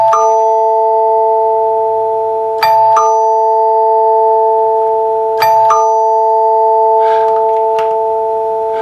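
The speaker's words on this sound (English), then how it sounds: "This is what's called a chord note chime." NuTone L37 chord note door chime rings out, tone bars struck in several bright ding clusters that sustain a long, resonant chord, loud and close in a quiet room.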